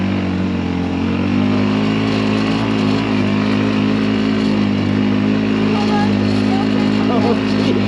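A Polaris RZR 200 EFI engine drones loudly and steadily while driving through snow, a constant close-up motor hum with slight rises in pitch, and voices speak faintly over it.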